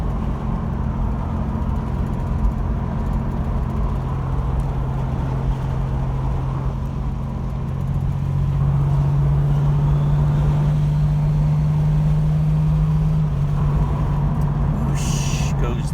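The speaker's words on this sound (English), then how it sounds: "Hear that nice turbo whoosh." A 1980 Buick Regal Turbo sport coupe with a draw-through turbo, heard from inside while driving: a steady engine drone with a rising, sustained whistling whoosh as the turbo spools, loud and close, with no talking.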